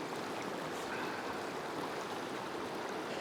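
A river rushes through the mountain landscape of Berchtesgaden, a constant broadband roar of flowing water close by, with no voices over it.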